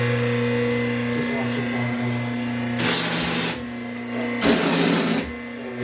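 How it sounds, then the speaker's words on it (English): A power washer motor runs with a steady loud electric hum, broken by two hissing bursts of spray a few seconds apart. "so this is the motor for the power washer"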